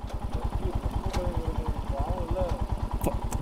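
A Royal Enfield Himalayan or RS200 motorcycle engine idles close by with a fast, even pulsing thump, while a voice talks briefly over it.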